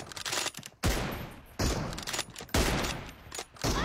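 M24 sniper rifle shots in a shooter video game, with loud sharp blasts at roughly 0.8, 1.6 and 2.5 seconds, each followed by a long booming tail over constant game noise.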